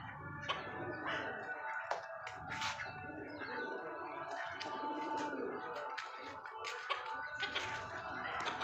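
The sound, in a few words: pigeons cooing while eating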